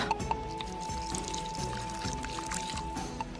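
A sound effect in an audio drama of hot water being poured to brew crushed herbs: a steady, continuous liquid trickle and splash, close and even in level, heard alone.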